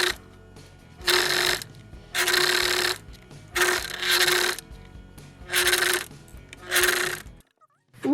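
A household sewing machine stitching a fabric seam runs in five distinct bursts of roughly a second each, separated by brief pauses, close and fairly loud, with a mechanical whirring motor tone and no talking.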